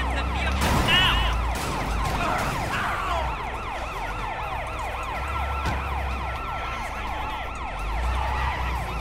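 Police car siren from the video game Sleeping Dogs, a loud wailing siren sweeping up and down continuously, with engine and traffic noise underneath.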